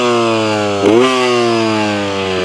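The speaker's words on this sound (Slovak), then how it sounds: "Pekne sa vypaluje výfuk." An adventure motorcycle engine revs briefly from a steady idle and settles back, loud and close, while the exhaust burns in; no talking.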